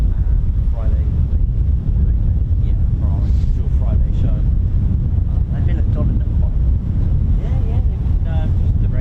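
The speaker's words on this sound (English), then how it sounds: "It's really windy today." Strong wind buffets the microphone outdoors at an RAF Mildenhall airfield, making a loud, continuous low rumble throughout. Faint voices talk beneath it.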